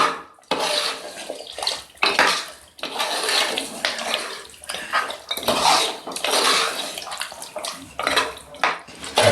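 Washed mutton marrow bones going into a pot for nalli kulambu curry, with a series of wet clattering knocks and splashes in irregular bursts, close up.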